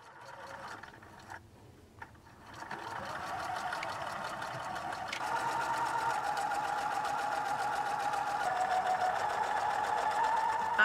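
A sewing machine stitches fabric for a stuffed animal, starting with a few quiet clicks and then running in a steady, close mechanical whir that builds and holds to the end.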